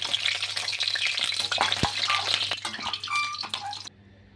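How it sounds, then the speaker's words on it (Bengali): Cauliflower pieces fry in hot oil in a pan with a loud, continuous sizzle and a few stirring clinks, then the sound drops away abruptly near the end, with no talking. "ফুলকপিগুলো ভাজা হয়ে গেছে, এবার এগুলো তুলে নিচ্ছি"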